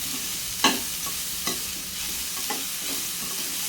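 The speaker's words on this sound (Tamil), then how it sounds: "இந்த கேரட்டோட பச்சை ஸ்மெல் போகிற வரையும் நல்லா வறுத்து எடுத்துக்கோங்க" Carrots sizzle steadily in a hot pan, frying for carrot sago payasam, with a few sharp scraping stirs of a spatula breaking through the frying hiss.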